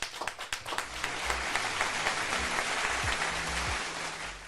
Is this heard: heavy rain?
no